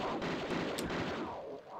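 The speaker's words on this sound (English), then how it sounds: "I'm gonna break out the RoboCop pistols again." Pistols firing in the video game Tomb Raider II, a dense burst of loud, booming gunfire that fills the whole moment, with no talking.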